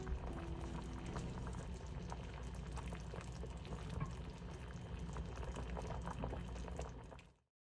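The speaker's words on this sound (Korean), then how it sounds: "뚜껑을 닫고 5분간 끓여주세요" Korean beef soup bubbles steadily in a covered pot, a soft, close, even boil that continues without talk and then cuts off abruptly.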